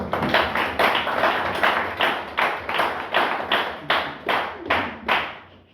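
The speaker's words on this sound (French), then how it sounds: "Je pense qu'on peut les applaudir fort." An audience applauds the trainers at a UNESCO and DGPC training week for journalists and students, a steady round of clapping with a regular rhythmic pulse, fairly close and loud, with no talk over it.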